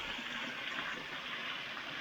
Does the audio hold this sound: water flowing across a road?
yes